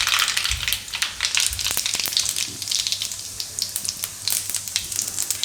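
Mustard seeds and cumin crackle and sizzle in hot oil in a pan, a steady close hiss with sharp pops scattered throughout and no talking.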